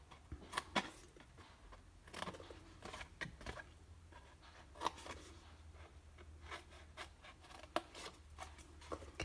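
Scissors cutting small rectangles off a scored paper candy box, heard as quiet intermittent snips and paper rustles scattered through the stretch, close by with no talking.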